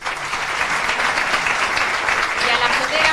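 Steady, dense crowd applause for the 2022 standard-bearer at the Pilar festival proclamation of a Centro Aragonés, continuous and loud for the whole moment with no break.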